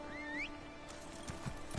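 A basic mount horse in the Elder Scrolls Online game gives a rising whinny, then hooves clip-clop in a few scattered steps, clear and close with no talk.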